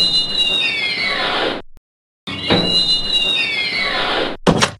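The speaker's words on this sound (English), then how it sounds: "Did you hear that? The squeak comes from the hinges." Metal door hinges squeal as a door swings open and then closed, a long, loud, high-pitched creak in two strokes split by a short silence, ending in a brief rattle.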